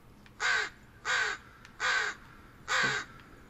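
Four loud, harsh crow caws in an even rhythm, each about half a second long, over quiet background noise, from the horror video game Blair Witch.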